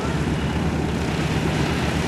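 A Red Baron Stearman biplane passes at an air show, its propeller engine a loud, broad, steady roar throughout.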